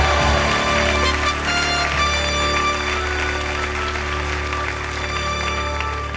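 A church congregation claps and cheers in a sustained wash of applause, steady and moderately loud, with music and room sound beneath it.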